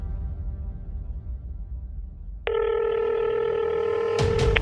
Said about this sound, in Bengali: দেখি একবার স্কুলে ফোন করি